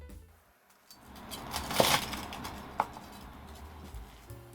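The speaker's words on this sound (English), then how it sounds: "Slice the katsu." A knife slices through a crispy fried pork katsu cutlet with two sharp crunches, the first louder, over a quiet background.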